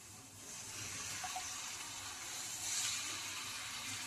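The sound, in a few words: water poured into tamarind fish curry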